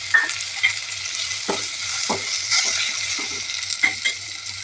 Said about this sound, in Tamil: நல்லா வதங்கிட்டுங்க தக்காளி.